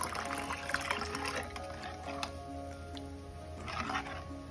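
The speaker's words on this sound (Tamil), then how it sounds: "தேவையான அளவு தண்ணி ஊற்றலாம்." Water poured into a thick tamarind gravy (kara kulambu with sepa kilangu) in a home kitchen, a steady close liquid pouring and splashing that runs on continuously without speech.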